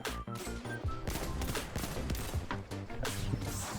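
Hand cannon gunfire in the Destiny 2 video game: several sharp, punchy reports burst out amid busy, loud game effects and music throughout the short stretch.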